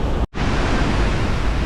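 At night, High Force Waterfall near Barnard Castle gives off a loud, close, continuous roar of falling water. The roar drops out for an instant near the start, then holds steady.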